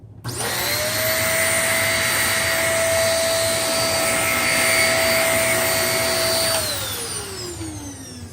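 A Shark NV22 vacuum cleaner runs at full power along a carpet edge, a loud steady whine and rushing airflow that winds down at the end as the motor is switched off, with no talking.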